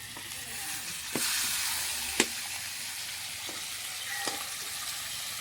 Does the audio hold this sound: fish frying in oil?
yes